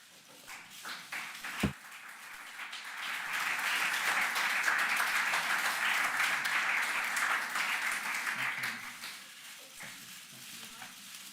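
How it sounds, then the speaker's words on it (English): Applause from the room at an Olympique Lyonnais press conference as a jersey is presented. Soft talk and a sharp knock come first, then clapping swells to a sustained, moderately loud patter for several seconds before fading back under voices. "you can give him a round of applause"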